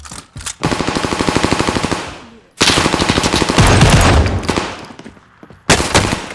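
Automatic gunfire on Rebirth Island in the shooter Call of Duty Warzone: three loud, close bursts of rapid machine-gun fire, each a couple of seconds long and separated by short silences.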